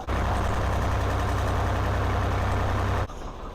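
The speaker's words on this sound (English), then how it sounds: "So I'm going to pick the revs up a little bit to make sure." A motor runs at a steady, raised rev with a low throbbing rumble, then cuts off abruptly near the end, leaving quiet.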